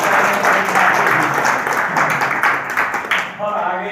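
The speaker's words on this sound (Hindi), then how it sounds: "तालियों के साथ स्वागत" Audience applause welcoming a speaker at a Delhi community association meeting, a steady loud wash of many hands clapping that thins into scattered claps near the end, with a voice faintly underneath.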